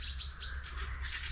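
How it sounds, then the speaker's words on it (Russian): Chaffinch fledglings near an empty nest give a few brief, high, thin chirps in quick succession, faint to moderate and heard alone over low background hiss. "Птенцы зяблика."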